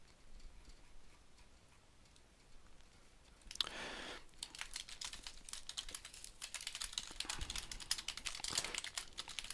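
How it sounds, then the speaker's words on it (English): Quiet computer keyboard typing ticks along steadily at a desk, faint and close, with a rustling burst partway through and slightly busier clicking afterward. "I know you can probably hear me typing."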